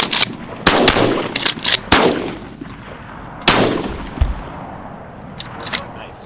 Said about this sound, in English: Shoot the front bird for me,